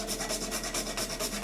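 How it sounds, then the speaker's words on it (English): Whole nutmeg scrapes back and forth across a grater in quick, close, rhythmic rasping strokes, soft and dry. "And for additional flavor, I will grate a nutmeg"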